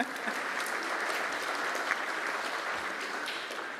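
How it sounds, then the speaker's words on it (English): Sustained applause from a graduation ceremony audience at Glyndwr University in North Wales, a steady dense clatter of many hands clapping without pause, moderately loud and filling the hall. "so that applause will definitely ring loud and clear in Cardiff"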